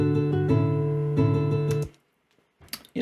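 Guitar Pro software playing back a solo guitar arrangement, sustained plucked chords with ringing bass notes struck in a steady pulse, then an abrupt stop and a few faint clicks.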